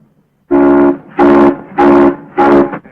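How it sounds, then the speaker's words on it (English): A steam locomotive whistle sounds four long, loud blasts in a steady rhythm, each about half a second with short gaps, heard up close with no talking. "You blow that whistle again, and I'll blow you right out of that cab."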